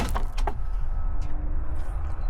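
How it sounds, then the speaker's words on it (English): The door of a 16H motor grader cab in a heavy equipment boneyard opens with a few quick metallic clicks and rattles of the latch, close and brief, followed by quiet background. "So if we open this door,"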